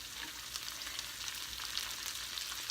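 Sugar snap peas sizzle and fry in a hot pan on a turned-down burner for a shrimp scampi pasta, a steady close crackling hiss with small pops and no talking.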